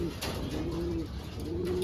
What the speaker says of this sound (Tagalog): Yan yung ibon natin.